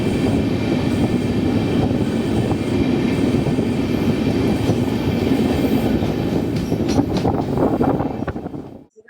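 The Sairang Express rolls along the railway toward Mizoram with a steady loud rumble and rhythmic wheel clatter heard from on board, continuous for several seconds before fading abruptly at the end.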